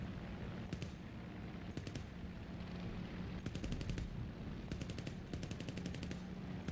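Short repeated bursts of aircraft machine gun fire in War Thunder, quick rattling volleys separated by pauses, over a steady droning engine roar, with no speech.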